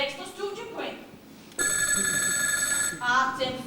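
A mobile phone ringtone cuts in during a class, a loud, bright electronic melody ringing steadily for over a second between stretches of voices talking.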